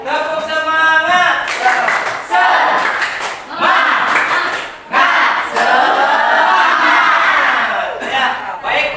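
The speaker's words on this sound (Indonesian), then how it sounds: "sebelum memulai, tepuk semangat dulu lah" A classroom of children does a rhythmic spirit clap, loud unison claps in patterned bursts mixed with shouted chanting voices, close and energetic, with a short pause midway before the clapping resumes.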